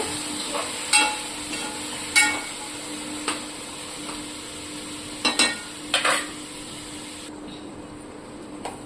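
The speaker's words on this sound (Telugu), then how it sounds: "ఇప్పుడు వీటిని అన్నిటిని మంచిగా కలపాలి." Paneer, peas and potato curry is stirred and mixed in a pan over a low sizzle, with scattered scraping knocks of the spoon against the metal repeating every second or two.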